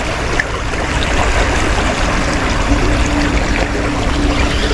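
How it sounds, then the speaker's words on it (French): A small stream flows strongly nearby, a steady dense rush and gurgle of water without pauses, loud and close throughout. "Le petit ruisseau, il crache plein pot."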